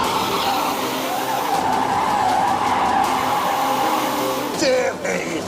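A Rimac Nevera electric hypercar in drift mode lets out a sustained, loud screech of skidding tires under a whining motor, which shifts abruptly near the end.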